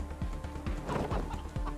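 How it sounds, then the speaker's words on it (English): Chickens cluck repeatedly in the video game Wasteland 3, a near, busy series of short clucks and squawks over constant game background noise, with no talk. "Animal Whisperer should work on those chickens"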